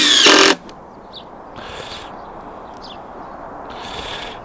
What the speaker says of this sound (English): let me get these last 3 screws in here before we end this video